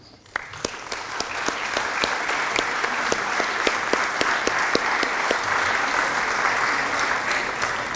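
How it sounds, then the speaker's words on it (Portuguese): Applause from an audience at a ceremony, steady clapping that starts abruptly and continues at a loud, even level throughout. "A todos uma salva de palmas."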